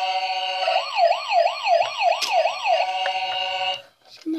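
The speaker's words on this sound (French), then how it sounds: "Troisième sirène." The third siren tone of a white toy ambulance plays nearby: a quick, steady up-and-down electronic warble repeating for nearly four seconds, with a few faint clicks before it stops.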